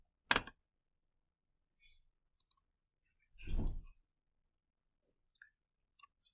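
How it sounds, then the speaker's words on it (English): Buttons pressed on a graphing calculator, a few scattered sharp clicks and taps spread across a quiet stretch, with one louder soft thump in the middle and otherwise near silence. "I'm going to look on my graphing calculator."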